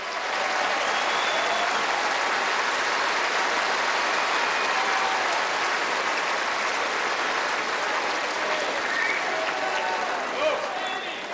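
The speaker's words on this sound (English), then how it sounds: "Please give him a warm round of applause" A crowd applauds the chair umpire, Pascal Maria, at the Australian Open 2012 men's final victory ceremony between Djokovic and Nadal: steady, dense clapping from a large arena audience that holds evenly throughout with faint cheers mixed in.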